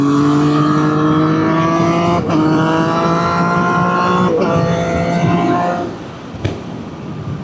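A Triumph Street Triple 765 RS engine droning at high revs while riding, pitch sliding up through gear changes, then easing off as it slows, with wind rush.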